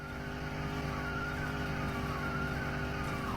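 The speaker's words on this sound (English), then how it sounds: "I'm hearing screeching" Tires squeal in a long, rising screech over a steady engine roar, loud and continuous, in the video game The Long Drive.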